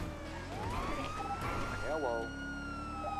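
Police car siren from a video game cruiser, a steady wailing tone rising and sweeping up and down, then falling into short yelps, with a voice speaking briefly over it.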